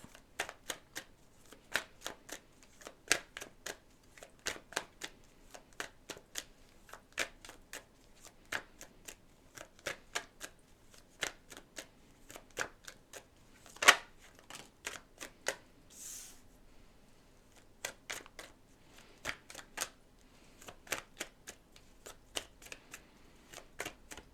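A Clarifying Life Situations oracle card deck is shuffled over and over, with quick riffling flutters and sharp snaps repeating through the quiet room at close range.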